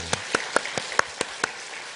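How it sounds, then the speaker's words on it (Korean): Sparse clapping at a Korean church Sunday praise service, about seven evenly spaced single claps, crisp and close, with no talk over them. "지금까지 인도신 하나님께 영광의 박수 올려드리겠습니다."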